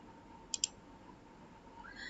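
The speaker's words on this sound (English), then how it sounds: "Click and drag the mouse." Two quick computer mouse clicks close together, crisp and near, over a faint steady background hum.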